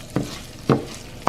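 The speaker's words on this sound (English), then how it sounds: "now I have some oil on a pan on medium heat, and I'm gonna add rice" Rice stirred in hot oil in a pan over medium heat, three distinct scraping strokes in an even rhythm over a low background sizzle, close by.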